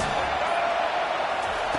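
Football stadium crowd at an Alabama versus Georgia game roaring steadily on a big third down, a dense sustained wash of cheering with no breaks, fairly loud and continuous throughout.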